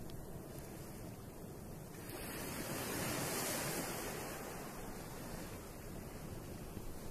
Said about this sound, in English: As you are stood there listening to the sound of the waves